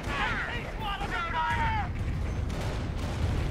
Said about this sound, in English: Calliope's first barrage looks bloody beautiful